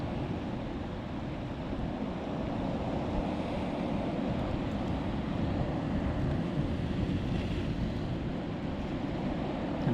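Ocean waves at Umdoni Point on the shore: a continuous broad rush of surf with wind noise, steady and fairly loud with no clear gaps between breakers.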